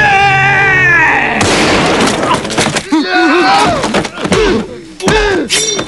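A single gunshot in a dubbed Italian film scene: a sudden loud, broadband bang after a tense countdown, followed by agitated, shouting voices talking over the aftermath.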